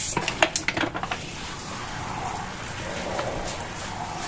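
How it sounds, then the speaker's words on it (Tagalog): Light drizzle falls outdoors with a steady, soft hiss of fine rain, opening with a few close, sharp taps and rustles before settling into an even patter. "tingnan mo ambon"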